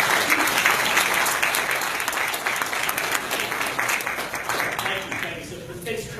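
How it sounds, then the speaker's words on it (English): Audience at a business meetup gives a round of applause, a continuous wash of many hands clapping that thins out toward the end. "I want to give you a round of applause"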